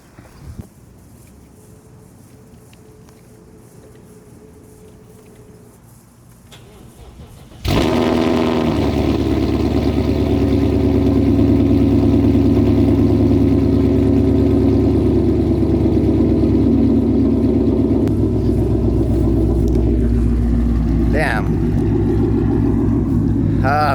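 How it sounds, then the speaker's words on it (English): An abandoned Ford Mustang cold-starts after two years sitting, with quiet rustling first, then the engine catching abruptly and settling into a loud, steady, close idle that runs to the end. "I'm gonna start it up."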